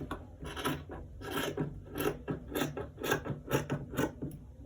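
Scissors snip away excess fabric beside a stitched V-neck inner pocket, a quick series of short crisp cuts and rasps repeating in an uneven rhythm, close and fairly quiet.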